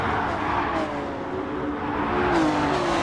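Several race cars in a racing video game drone down a straight in a close pack, engines whining and rising in pitch under acceleration, a steady dense roar throughout.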